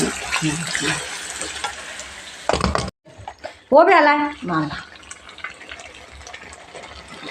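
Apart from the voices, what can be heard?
water poured into pot to cook chicken for biryani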